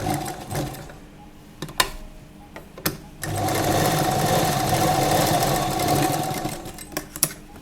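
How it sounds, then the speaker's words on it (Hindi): A sewing machine stitches net fabric for a lehenga. A few short taps and starts are followed by a steady, loud mechanical whirring run of about four seconds, then more brief clicks at the end. "अब हम इसके बीच में एक सिलाई लगा देंगे।"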